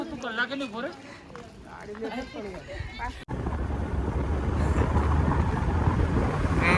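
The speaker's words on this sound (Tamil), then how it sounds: "காற்று பயங்கரமாக அடிக்குது." Strong wind roars steadily into the microphone near the border, loud broadband buffeting that starts abruptly partway through; before that, a voice talks over lighter wind.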